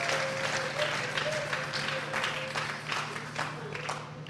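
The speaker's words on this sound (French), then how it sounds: "acclamer très fort" Congregation at a church service clapping and cheering loudly and steadily throughout, a continuous dense wash of applause with voices mixed in.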